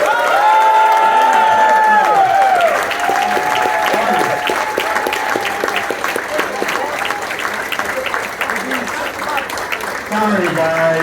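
Audience applause at a hall of fame induction ceremony in upstate New York, a loud, sustained burst of clapping from a large crowd filling the hall, with voices and cheers mixed in throughout.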